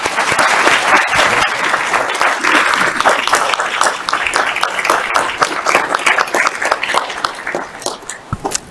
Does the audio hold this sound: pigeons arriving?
no